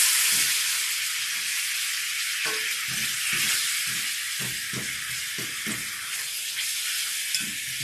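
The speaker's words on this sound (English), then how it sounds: "I'm going to add a little bit of brown sugar. Okay, give it a little bit of a sweetness to caramelize those." Pierogis frying in a pan as brown sugar caramelizes, giving a steady loud sizzle with occasional pops and soft stirring knocks.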